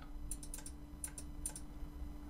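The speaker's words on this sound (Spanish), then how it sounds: "Y entre corchetes tecleo esa key" Scattered computer keyboard keystrokes in small clusters, soft and close over a faint steady hum, with no talking.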